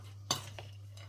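A spoon stirs ground walnuts mixed with sugar, giving a couple of soft clinks and scrapes against the bowl, faint over a steady low hum.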